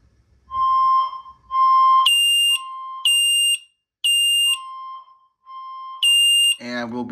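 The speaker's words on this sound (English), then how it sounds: "we will be testing the loft ham shack smoke detector" A smoke alarm in a loft ham radio shack sounds in repeated loud electronic beeps during a fire alarm system test, alternating tones in a pulsing pattern, ending with a short burst of noise.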